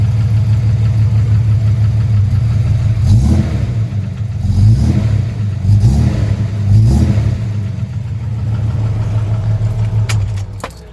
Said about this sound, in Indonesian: Kita coba gas sedikit ya teman-teman.